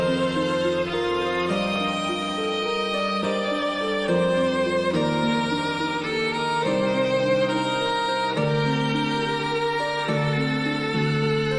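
Raid music from the Final Fantasy XIV Nier raid, with Drakengard-style bell tones: a steady, sustained melodic passage of rich tonal instruments and chime-like notes changing every second or so, with no talking.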